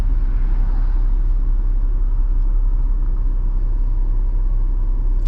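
Steady, loud road traffic rumble near a bridge in a remote area, cars and motor vehicles droning continuously with no break and no voices.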